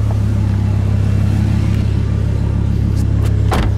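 Lamborghini Huracan V10 engine running, a steady loud close low rumble with a brief blip near the end, no talking.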